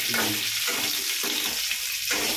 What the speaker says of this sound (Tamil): முள்ளாங்கி கொஞ்சம் அதிலே வதக்கிட்டு